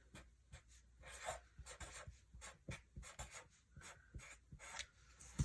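A pen scratches quietly across paper in short, irregular strokes, close up with soft pauses between bursts.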